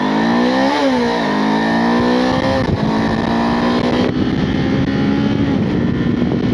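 A 2026 Kawasaki KLE500 pulls away and accelerates, its loud engine rising in pitch through several gear changes, close and continuous.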